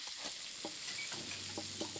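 Liver frying in a pan with smoked bacon makes a continuous close sizzle, broken by a few brief stirring or turning clicks, with no speech.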